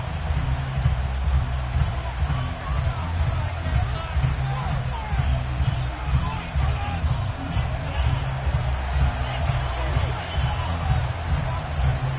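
Stadium crowd noise from an EA Sports football video game set at Highmark Stadium in Orchard Park, New York, a steady loud roar and babble of fans throughout, with commentary talk over it.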